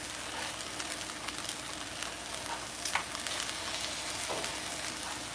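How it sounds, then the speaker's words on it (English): Rice frying in hot oil on a home hibachi griddle, a steady broadband sizzle close by with a brief sharper clatter near the middle, no voices. "You can use oil, whatever you need to fry your rice."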